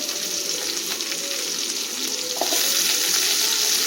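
Onions sautéing in a pan until golden for a mango and drumstick sambar, a steady close sizzle with a faint stirring scrape partway through that grows a little louder near the end.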